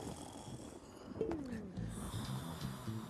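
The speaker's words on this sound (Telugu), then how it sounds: "గురక వినపడుతుంది" Rough snoring breaths rumble at a low level, with a tonal swooping sound and some background noise mixed in.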